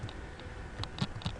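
Keys tapped on a computer keyboard, a few sparse, soft clicks spread across a short, quiet stretch with light background hiss.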